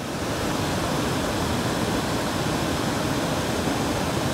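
Water pours over a river weir in a steady, dense rush of broadband noise, close and continuous, with no voices.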